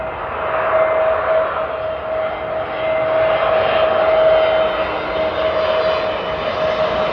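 An airliner in Neo livery arrives at Amsterdam Airport, its engines a loud, steady roar with a sustained tone that holds throughout and no voices over it.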